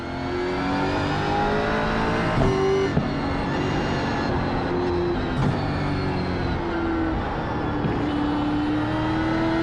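Gen 3 Supercar race car engine on track at VIR, revving steadily at high pitch with shifting tones and brief gear changes, loud and continuous with no talk.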